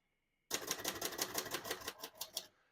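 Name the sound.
typing on a 1959 Royal Futura 600 portable typewriter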